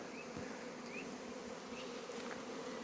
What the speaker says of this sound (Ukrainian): З кожного льоточка вилітають бжілки і однозначно мене цим тішуть.